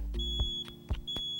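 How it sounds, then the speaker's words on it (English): A smoke detector's test button pressed, giving a string of short electronic beeps, about four sharp chirps spaced unevenly over a low hum, close and clear with no talking. "When testing your smoke detector, you want to make sure that you push the test button."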